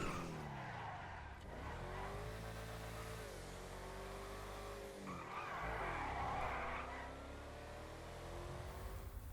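A Vista Astron, a Porsche Macan-based car in GTA V, drives with a steady engine drone and long tire squeals as it skids, the pitch sliding down and back up through the turns, loud and continuous.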